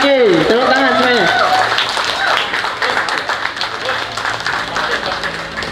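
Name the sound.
audience applause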